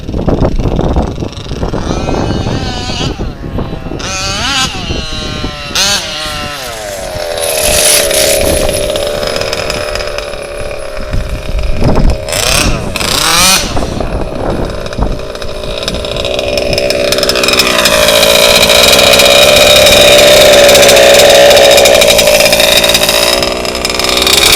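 HPI Baja RC car with a gas engine revving hard outdoors, a loud buzzing two-stroke whine that rises and falls in pitch through repeated throttle bursts, with wind noise on the microphone.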